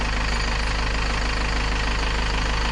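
A step van engine idles steadily and loudly just after starting, with a constant deep rumble and even knock that carries on without pause.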